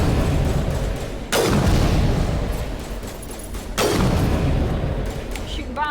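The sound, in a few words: bombs exploding in Mass Effect Legendary Edition video game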